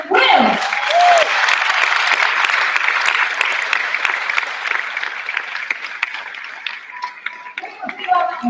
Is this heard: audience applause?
yes